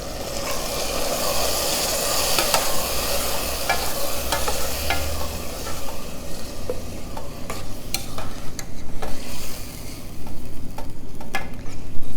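Cooked beans with a cup of their cooking liquid poured into a hot pot, then stirred: a steady sizzle and bubbling hiss up close, broken by scraping spoon strokes and clinks against the pot. No one speaks.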